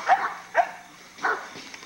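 Pit bull barking in a yard, three sharp barks close by, the first two quick together and the third after a short pause, with no other sound.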